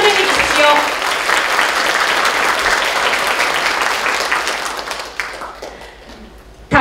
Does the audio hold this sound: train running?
no